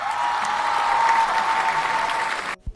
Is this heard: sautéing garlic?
no